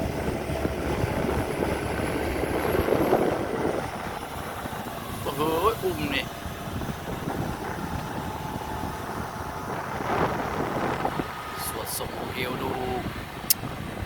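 A Caterpillar CAT320 Next Gen excavator's diesel engine runs steadily at about 1,800 rpm, a broad continuous drone throughout with voices talking over it.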